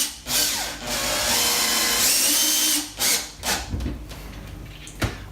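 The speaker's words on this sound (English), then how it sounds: "Normally if I'm screwing things in I would adjust the drill to the ratchet" A power drill drives screws into soft plasterboard while fitting a Nest Protect 2 smoke alarm, a sustained whining run followed by a few shorter bursts as each screw seats, close and fairly loud.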